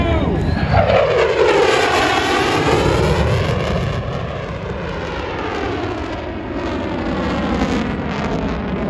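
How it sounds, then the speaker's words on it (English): A loud F-35 Lightning II fighter jet roars past on afterburner at an air show, with a sweeping, swirling pitch shift, its powerful engine rumble filling the air as it flies by. "That's called an afterburner."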